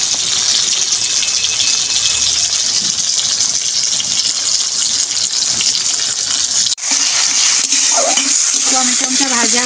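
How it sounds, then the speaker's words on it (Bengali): Chopped tomato with salt frying in a pan over a tempering of dried red chillies, a loud continuous sizzle with scraping stirs throughout, a brief dip near the end. "টমেটোটা ভালো করে আমি ভেজে নিই।"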